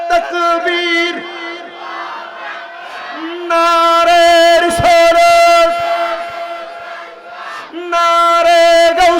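A large crowd at an Islamic sermon gathering chants the takbir in loud unison bursts, repeated several times with short pauses between, with voices in call and response.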